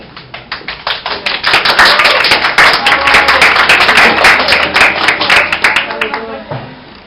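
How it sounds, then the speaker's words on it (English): An audience claps for a comedy club act, starting with a few distinct claps that build into dense, loud clapping, then thin out into scattered claps near the end. "Let's clap with you, Rudness Club"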